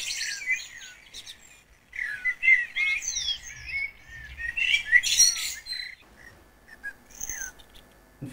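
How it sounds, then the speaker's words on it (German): Recorded birdsong with several birds chirping and trilling in quick, bright bursts, some notes sweeping up and down, with brief pauses between phrases and faint low rumble beneath. "nehmen wir einfach mal ein Vogelgezwitscher."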